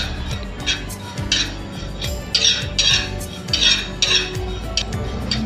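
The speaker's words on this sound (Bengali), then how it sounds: "জিরেটা আমি হালকা ব্রাউন করে ভেজে নেব" Cumin seeds dry-roasting in a pan, a spoon or spatula scraping and clinking against the metal in a steady repeated stirring rhythm, close and fairly loud with no talk.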